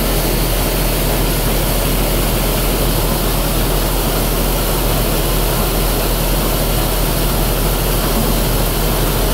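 Loud, steady broadband rush and low hum of a Bourgault 7000 series air seeder with its tank running out product during calibration, continuous and unbroken with no voices.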